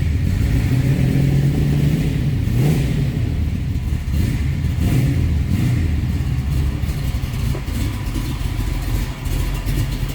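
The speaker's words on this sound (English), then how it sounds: "Good sounding engine." A 1985 Chevrolet Camaro engine rumbles nearby, idling deep and then revving up and down in a few throaty surges.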